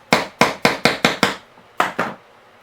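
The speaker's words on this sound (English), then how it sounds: "hammer it back the other way just a little bit" Eight sharp metallic hammer blows on the chain of a 1988 Huffy BMX freestyle bike: six in quick even succession, a short pause, then two more.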